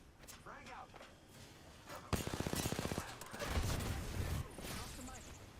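Automatic gunfire in the Apex Legends video game: bursts of rapid shots in the middle of the clip with other game effects around them, fairly close and moderately loud.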